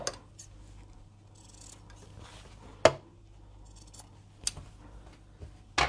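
Scissors snip through excess fabric at an angle while a sew-together bag is made, producing a few sharp, close cuts spaced seconds apart over quiet room noise, with no talking.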